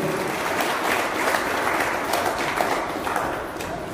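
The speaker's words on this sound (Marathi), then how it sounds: "एकदा सर्व उपस्थित असणाऱ्यांसाठी जोरदार टाळ्या वाजवणे" Steady applause fills a school alumni get-together, a dense, even wash of many hands clapping at once with no pauses, fairly close and loud.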